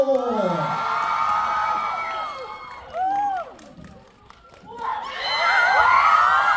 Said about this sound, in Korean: 여러분 큰 박수와 환호로 맞이해시기 바랍니다